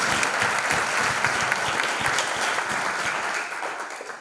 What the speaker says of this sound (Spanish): les pido que lo recibamos con un aplauso